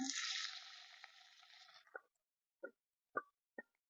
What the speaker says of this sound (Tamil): எண்ணெய் சூடாயிடுச்சு வெங்காயத்தை போட்டுறேன்